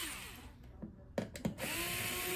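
Screws come out of the back panel of a Toshiba 32WL2863DB television as a power driver whines in short bursts. Close, loud buzzing stops and starts, with a few clicks in the gaps.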